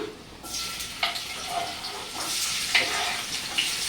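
Chopped onion tipped into hot oil in a home kitchen pan, bursting into a steady broadband sizzle with a few sharp crackles and pops, close and moderately loud, no voices.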